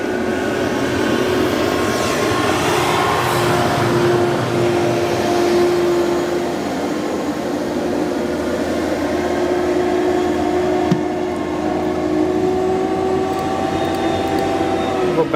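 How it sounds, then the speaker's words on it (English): An Air China cargo jet at O'Hare International, powering up for takeoff, gives off a steady, loud, sustained engine roar with a droning whine that holds throughout, with no voices heard. "Go back to our Air China cargo, see if we can catch it before it lifts off."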